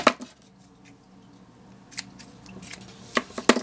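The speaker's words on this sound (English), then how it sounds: "I am going to pull the yarn through and actually cut it real quick." Scissors cut yarn during amigurumi crochet, with crisp metallic snips at the start and a couple more near the end, close and distinct against a quiet background with no talking.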